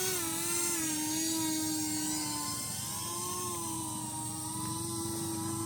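An FPV drone hovers while coming in to land, its motors giving off a steady, high, buzzing whine with layered tones that drift slightly in pitch, heard from a moderate distance without any pause.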